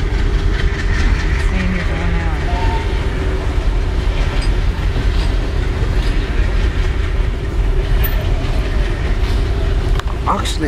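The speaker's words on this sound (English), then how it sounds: "we have to wait till the train is gone" A train rumbles past on railway tracks in south India, a loud continuous clatter of wagons and wheels that fills the whole stretch, with a voice speaking briefly over it.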